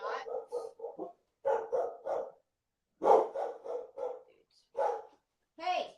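Pet dogs bark in loud, close bursts, several quick yaps clustered together, then pauses before more barking, with no talk over them.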